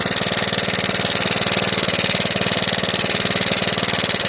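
An Oleo-Mac 155K cultivator's small engine runs steadily at half throttle, a loud, close, rapid even chug that carries on without a break.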